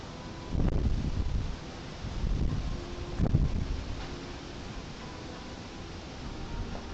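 Wind gusts buffet a microphone outdoors during a painting session, with broad rumbling bursts that swell and fade over a steady background hiss.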